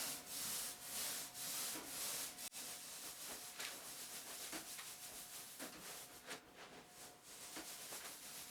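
A paint roller spreads orange paint across the front of a fridge in a soft, close, repetitive rubbing swish. The strokes come back and forth, faint and steady, with no voices.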